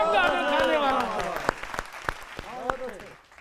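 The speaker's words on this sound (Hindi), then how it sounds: "तालियां आप सभी लोग इतना जोर से बजाएं कि हमारे देश के सैनिकों का जोश बढ़े" Audience clapping at a Hindi comic poetry gathering, scattered sharp claps that pick up after a voice speaking at the start, fairly close.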